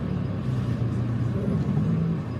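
A car drives steadily along a road, heard from inside as a continuous low engine-and-tyre rumble.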